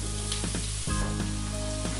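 Chopped white onion hits hot olive oil in a pan and sets off a steady loud sizzle, with a few clinks and scrapes of stirring over the continuous frying hiss.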